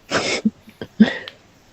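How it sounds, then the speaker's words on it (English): A person gives two harsh coughs with a short throat catch between them, close and loud, during a tabletop role-playing session, with no speech. "I was genuinely coughing"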